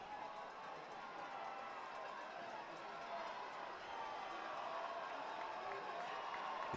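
Crowd noise from a high school football game between College Park and The Woodlands, a steady broad roar of many voices that swells slightly toward the end, with talk mixed in.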